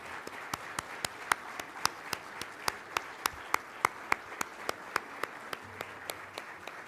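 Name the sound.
applause welcoming the Secretary of Finance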